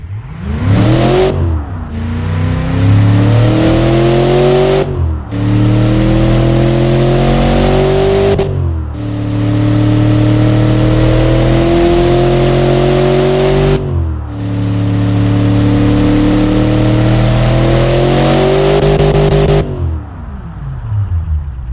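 A tuned Chevrolet LT1 truck V8 in the Automation car game cranks and catches, then revs hard in four rising sweeps separated by brief drops, loud and close, with no talking.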